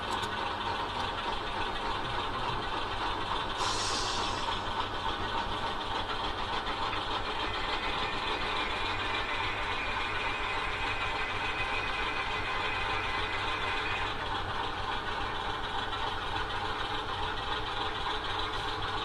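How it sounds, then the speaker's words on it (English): A continuous low diesel-like engine rumble from a model train running on a layout, steady and unbroken throughout, with no voices. "It's the first train of the morning."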